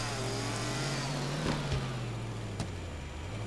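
A car engine in a zombie-driving video game drones steadily at a low, loud pitch, with a couple of brief thuds and slight revving swells.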